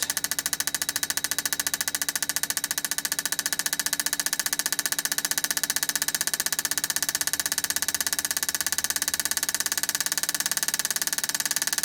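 An LS-swapped 1957 Chevy engine runs in a steady, rapid mechanical ticking clatter, even and continuous at moderate loudness, with no voices.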